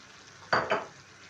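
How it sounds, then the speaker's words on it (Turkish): A brief burst of loud sizzling as chopped tomatoes hit a hot pan of meat, two quick surges of frying hiss that fade back to quiet. "Şimdi yazdan hazırladığımız doğranmış domateslerimizi ekliyoruz"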